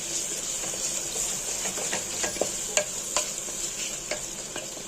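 Paneer pieces fry in oil with a constant bright hiss and scattered sharp pops and spatters, close and clear, with no talking.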